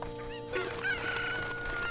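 A rooster crows in the Zelda video game Ocarina of Time, a clear rising cock-a-doodle-doo over steady game background music, with no speech.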